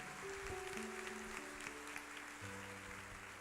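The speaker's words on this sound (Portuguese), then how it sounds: "Aplauda bem forte a Ele" A church congregation clapping loudly in a large hall, a sustained wash of applause over sustained organ or keyboard notes in the background.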